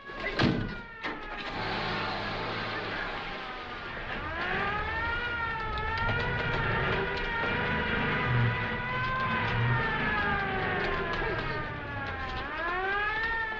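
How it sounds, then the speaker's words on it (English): A loud wailing siren rises and falls continuously, with a vehicle engine rumbling underneath throughout. "Don't you hear that siren?"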